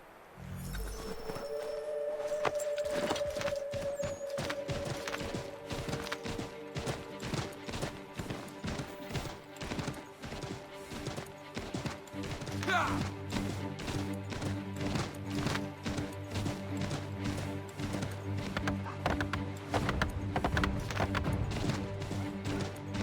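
Horse hooves clip-clop in the Assassin's Creed III video game, a rapid steady beat of galloping strikes over game music and background effects, with a brief whinny early on.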